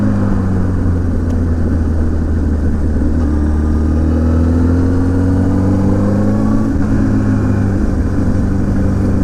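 A motorcycle rides along a road in Veneto, its mid-pitched engine droning loud and close throughout, with a rising tone as it accelerates and wind rushing past, no talking.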